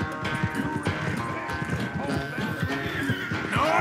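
A horse in the video game Red Dead Redemption 2 gallops with rapid rhythmic hoofbeats and gives a clear whinnying neigh near the end, while someone talks over it.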